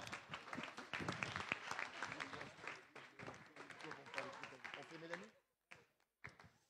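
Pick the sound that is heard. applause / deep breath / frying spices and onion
applause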